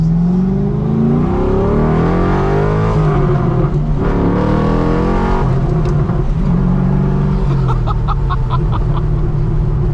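An LS V8 swapped into an RWB Porsche 911 accelerates hard from the driver's seat, engine note climbing through several pulls and gear changes, loud and continuous, with brief sharper mechanical chirps near the end.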